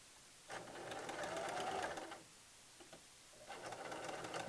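A sewing machine stitches the hem of a sun dress in two quiet bursts of rapid, even whirring, separated by a pause of about a second.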